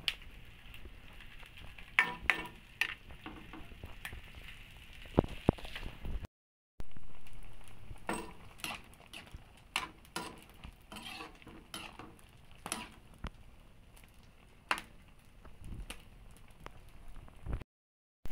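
Upo gourd and ground meat cooking in a pan, with scattered clinks and scrapes of a spatula or spoon stirring against the metal over a faint sizzle, spaced irregularly and fairly quiet.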